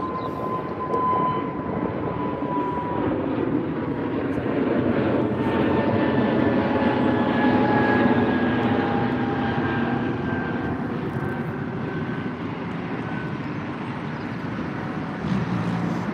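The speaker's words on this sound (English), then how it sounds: "it's that London Heathrow Zurich route for British Airways on the A320" A British Airways Airbus A320 departs London Heathrow bound for Zurich, its engines a steady, loud roar with a whining tone that rises and falls as the jet climbs away.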